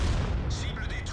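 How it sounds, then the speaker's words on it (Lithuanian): Artillery shells firing and landing in a World of Tanks battle, heard as a dense low rumble with sharp blasts, close and loud throughout, with a player's voice over it. "Štai dabar artilerija."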